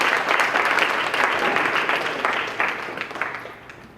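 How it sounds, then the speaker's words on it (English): Audience applause for a police captain at a White Ribbon Day domestic violence awareness event at a city government center, steady dense clapping from a crowd that tapers slightly toward the end. "Give Captain Cabral a round of applause"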